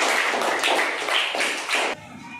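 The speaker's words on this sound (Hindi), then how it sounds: "माहिन के लिए जोरदार तालियां।" Children clap together for a correct answer in a kids' quiz game, a loud, steady burst of many hands in bright rhythmic pulses, breaking off abruptly near the end.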